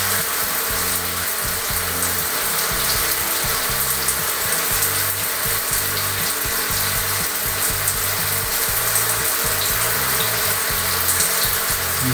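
Water pouring steadily from a Hydra Ducha electronic shower, a continuous broadband hiss and splash that stays even and fairly loud throughout, with no voices.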